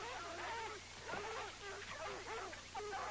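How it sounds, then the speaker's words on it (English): Bloodhounds baying on the scent, a chorus of long wavering howls and yelps overlapping continuously, moderately distant and steady throughout. "My father once owned a pair of bloodhounds, and their baying sounded like that when they were on the scent."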